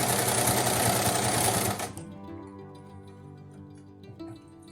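Sewing machine stitching a long-sleeve shirt for a cloth doll, running fast with a dense mechanical whir for about two seconds, then stopping to a faint hum and light ticks, close and alone.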